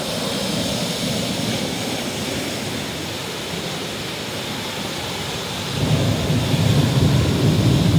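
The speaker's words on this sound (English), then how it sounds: "Thundering." Thunder rumbles low and continuously during a storm over a raging river in Gatlinburg, Tennessee, with a steady wash of rushing water beneath it and the rumble swelling louder toward the end.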